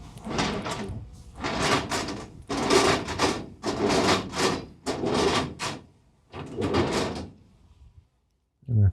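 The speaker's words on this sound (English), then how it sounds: "First you got to start with opening your door here." A livestock trailer door is worked open by hand during cattle loading, a series of long metallic sliding scrapes and rattles repeating close up, with speech likely mixed in.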